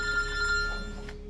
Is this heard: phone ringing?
yes